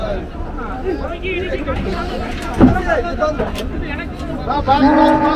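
Kangeyam native cattle at the busy Kundadam livestock market, with scattered moos and lowing over a steady hubbub of crowd chatter, and one sharp knock near the middle.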